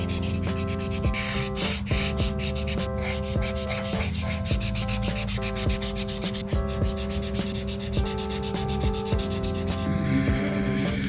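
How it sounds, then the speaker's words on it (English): Ohuhu markers scratch and rub across paper in steady, close strokes, continuous and soft, over a faint tonal background with no speech. "it's time for your daily dose of satisfying marker sounds"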